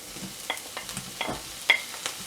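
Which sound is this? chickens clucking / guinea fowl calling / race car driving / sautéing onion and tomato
sautéing onion and tomato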